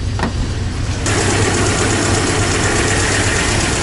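A KAMAZ truck engine warming up in the cold, with spark plugs suspected faulty, runs roughly and unevenly, its loud close idle growing fuller after about a second, then chugging on continuously.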